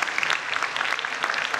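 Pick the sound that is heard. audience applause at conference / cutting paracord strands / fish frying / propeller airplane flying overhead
audience applause at conference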